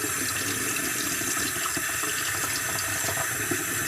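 Cold water runs steadily from a kitchen tap into a sink while a mud crab is cleaned, a constant close hiss and splash with no talking.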